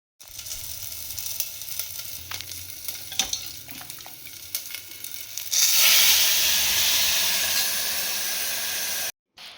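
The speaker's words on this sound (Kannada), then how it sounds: "ಆಮೇಲೆ ಒಗ್ಗರಣೆ ಮಾಡ್ಕೊಳ್ಳೋಣ." Tempering for onion-flower sambar sizzles loudly in hot oil, a steady frying hiss that swells sharply about halfway through as the seasoning hits, then cuts off abruptly near the end; no talking.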